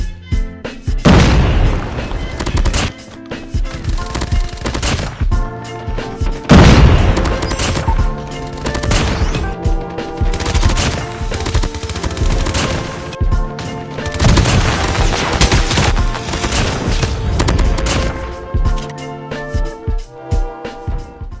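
MX9 submachine gun fire in COD Mobile comes as loud, rapid automatic bursts repeated many times, separated by short pauses and mixed with booms and impact noises.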